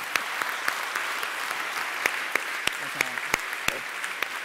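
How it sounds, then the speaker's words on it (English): Applause during a lightning talks session, with a dense crowd wash and a handful of sharper, louder individual claps standing out near the front; faint talk sits underneath. "I was just clapping the achievement."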